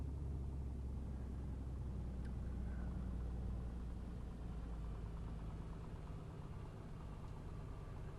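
Piper PA24 Comanche engine throttled back to low power in Flight Simulator, a steady low droning rumble held evenly throughout with no talk.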